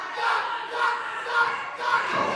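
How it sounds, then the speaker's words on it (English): A wrestling crowd at a DOA UK heavyweight championship bout between Winston and Zak Zodiac chants and cheers for Zak in loud, rhythmic surges that fill the arena, with a commentator's voice faintly underneath. "This crowd getting behind Zak."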